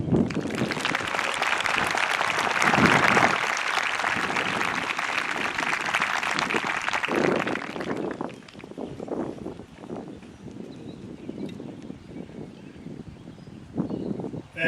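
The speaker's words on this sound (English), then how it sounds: "Let's give them another round of applause." Dense crowd applause at an outdoor high school graduation ceremony, loud and steady for about eight seconds, then thinning into scattered claps mixed with wind rumble on the microphone.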